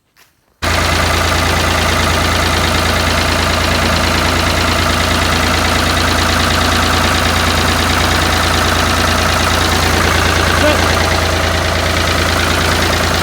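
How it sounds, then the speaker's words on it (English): A tractor engine idles steadily at close range while a shed is being relocated, a loud, even, low rumble that continues unbroken from just after the start. "The tractor's drifting a little bit."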